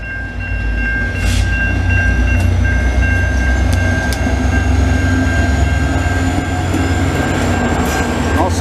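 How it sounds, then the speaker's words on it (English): A VIA Rail passenger train rumbles past steadily and loudly in Montreal, with a constant roar, squealing metallic tones and faint rhythmic clatter, no voices standing out. "Good to see the VIA trains rolling east and west."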